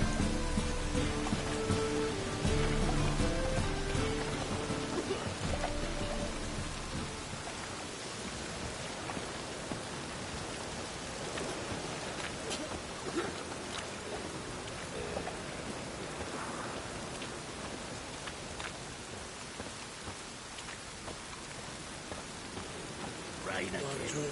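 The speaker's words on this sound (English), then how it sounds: "Rain" Steady rain falls in The Witcher 3: Wild Hunt, a broad, even hiss with some heavier spatters, starting beneath a musical bed that fades out within the first few seconds.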